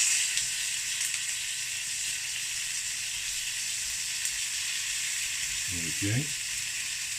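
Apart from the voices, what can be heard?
pork belly searing in a pan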